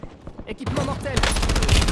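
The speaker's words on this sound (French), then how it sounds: "J'ai reçu des tirs." Gunfire in the video game Warzone, sparse shots and game voice callouts at first, then a loud dense burst of rapid automatic fire filling the second half.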